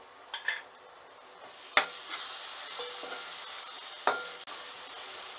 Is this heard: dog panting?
no